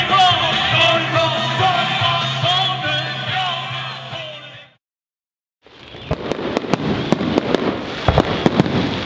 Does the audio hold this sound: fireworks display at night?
yes